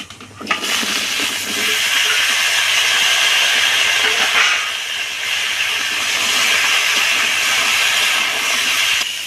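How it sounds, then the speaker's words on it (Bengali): Mixed vegetables poured into hot oil tempered with panch phoron and dried red chillies, in a home kitchen making fish-head chorchori; a loud, steady hissing sizzle bursts in after a short pause and continues unbroken. "পাঁচ ফোড়ন আর শুকনো লঙ্কা ফোড়ন দিয়ে দেবো এবার আমি সবজিগুলো ঢেলে দিচ্ছি"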